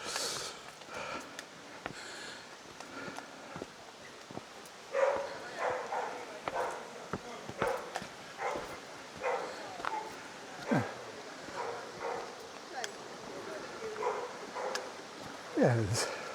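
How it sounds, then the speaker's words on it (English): A dog plays near the water on a day out in Whitby, giving scattered barks, yips and snorts at middle distance over outdoor background noise, with a person talking at times. "And there's another dog up here that seems to be having fun,"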